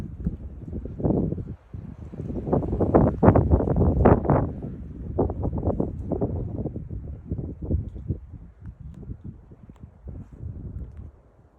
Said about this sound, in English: It's a little breezy, so I'm sorry if you can't hear me.